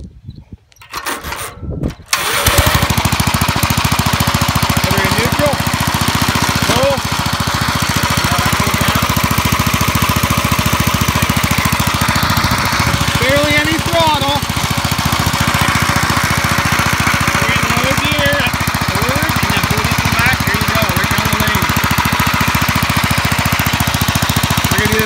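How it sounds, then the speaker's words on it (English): A Gravely rotary plow with a hybrid engine and push-button start: a short sputter of starting, then the engine catches and runs with a loud, steady mechanical roar for the rest of the clip, close by. "So let's see if I can get it started and roll."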